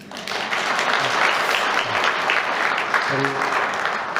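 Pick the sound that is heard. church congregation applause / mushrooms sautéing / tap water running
church congregation applause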